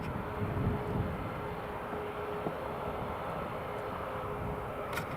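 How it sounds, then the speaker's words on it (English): A Norwegian airliner taxis in to its stand at Newcastle International Airport, a steady distant jet engine hum over a broad rumble, fairly faint and unbroken. "And there's the Norwegian just taxiing in on the stand."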